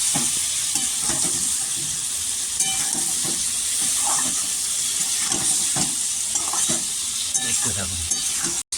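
Chicken pieces coated in a paste of onion, ginger, garlic, tomato and black pepper frying hard in a pan, a steady loud sizzle broken by repeated scraping stirs, no voices.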